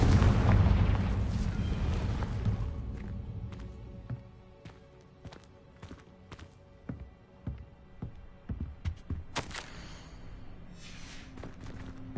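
The Confringo explosive spell in Hogwarts Legacy, a loud opening blast that rolls off into a fading rumble, followed by scattered sharp pops and crackles.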